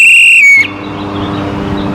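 A single sharp, piercing whistle blast, loud and close, is blown as a test signal for a student-built prototype. It cuts off abruptly after about half a second, leaving quiet room noise.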